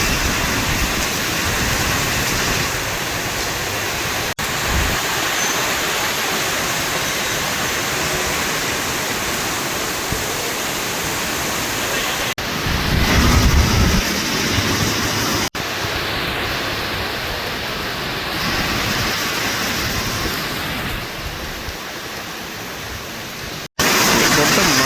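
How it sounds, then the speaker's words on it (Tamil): Heavy rain pours down with strong wind in Kilinochchi and Jaffna, a dense, loud, continuous roar with brief gusty swells, lasting the whole stretch. "இப்போ காற்றும் வந்து வீசுது பலமா."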